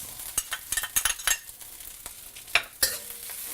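Onions fry with rice and egg in a wok for pineapple fried rice, heard as a quiet sizzle broken by sharp, irregular scrapes and clinks of a spatula tossing the food; no voices.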